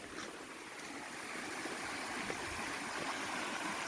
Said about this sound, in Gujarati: ખરખરતા ઝરણા હો